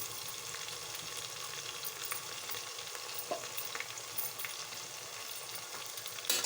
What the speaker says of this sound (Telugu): ఇప్పుడు అల్లం వెల్లుల్లి పేస్ట్ వేస్తున్నాను